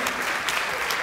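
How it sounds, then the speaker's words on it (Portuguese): Audience applause at a live hypnosis show, a dense, steady wash of many hands clapping at once, fairly loud and sustained through the whole moment with no voices breaking through. "Uma salva de palmas pro nosso"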